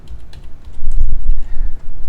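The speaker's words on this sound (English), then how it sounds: "let's do some typing" Computer keyboard typing while building a mobile interface design, a close run of quick, uneven key clicks with a brief flurry of heavier strokes in the middle, no voices.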